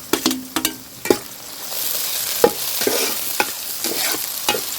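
Tomatoes tossed into browned onions frying in a pan for a dried prawn curry, a steady hiss of sizzling oil punctuated by repeated sharp scrapes and knocks of a spatula stirring, close and fairly loud.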